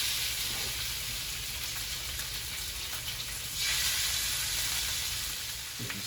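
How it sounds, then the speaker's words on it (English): Salmon sizzling and frying in a pan, a steady broadband hiss that holds for about six seconds, swells slightly midway and ends with a faint clunk, with no talking. "I'm going to start by putting all this salmon in and let that cook a little bit."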